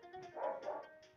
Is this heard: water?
no